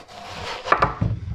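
A knife slices the top off a watermelon in a kitchen, a few close, firm cutting and crunching sounds against a board in quiet surroundings.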